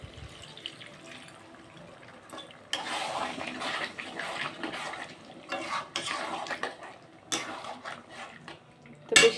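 Water is poured into a pan of simmering chicken and pointed gourd curry, a soft splashing and trickling that comes in short bursts with light clinks of a utensil, close and fairly quiet.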